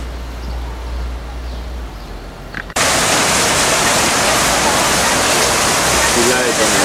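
Flowing water abruptly rushes in partway through, a loud, steady, hissing roar that continues unbroken to the end.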